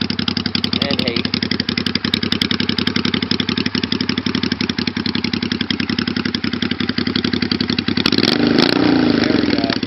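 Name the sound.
Honda Shadow VT500 bobber motorcycle exhaust idling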